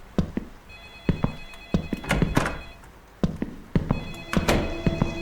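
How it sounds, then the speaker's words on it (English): A phone ringing in the video game Light Switch, heard as repeated thin electronic ring tones mixed with several loud, close thunks and knocks. "And the phone's going off."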